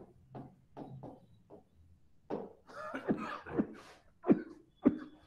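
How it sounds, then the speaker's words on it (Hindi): A burst of several harsh coughs, close and fairly loud, clustered in quick succession after a few softer throat sounds. "मुझे खांसी आ गई तुम लोगों से बात करते करते।"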